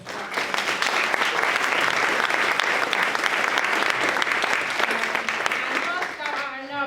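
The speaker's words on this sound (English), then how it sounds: "So can we give a round of applause?" Steady, loud applause from a large audience at a corporate Black History Month finance event, dense clapping sustained throughout and tapering slightly near the end.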